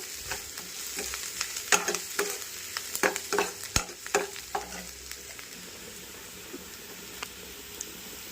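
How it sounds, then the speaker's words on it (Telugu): Green chilli pieces fry in a pan and are stirred, sharp scraping strokes clacking in an irregular rhythm over a steady sizzle, loud and close, then the stirring eases toward the end. "పచ్చిమిరపకాయ ముక్కలు వేసుకొని బాగా మనం కలుపుకోవాలి. ఇవి బాగా వేగాలి."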